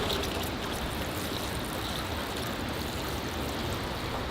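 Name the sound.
watering the base of a Douglas fir bonsai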